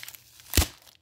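Tape tearing off an anime art package, heard as one short crinkly rip in the middle, loud and close, with faint rustling before and after.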